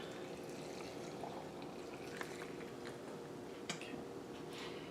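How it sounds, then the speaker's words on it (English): Hot water poured from a tea kettle over green beans in jars for traditional canning, making a continuous soft pouring wash at low level with a couple of faint clinks. "I'm going to get my tea kettle, and I'm going to pour hot water over these beans."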